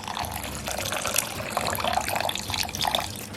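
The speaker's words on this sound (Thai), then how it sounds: "ผมก็เติมน้ำลงไปครับ แช่ข้าวนะครับ" Water poured into a bowl of rice to soak it for a vegetable biryani, a close, loud, continuous splashing and trickling with bubbly gurgles throughout, with no talking.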